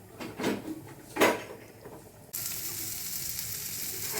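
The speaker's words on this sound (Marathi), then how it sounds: "हे इथे प्रॉन्स फ्राय होतात" Prawns coated in semolina, masala and salt go into a pan after a couple of clanking knocks. A loud, steady broadband sizzle then starts abruptly and continues to the end, close by with no voices.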